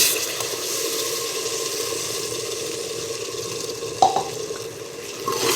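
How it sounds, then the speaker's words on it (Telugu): Tomato puree fries in oil in a pan, giving an even, steady sizzle close by, with a brief stir or clink near the end and no talk. "పచ్చివాసన పోయే వరకు వేయించుకుందాం"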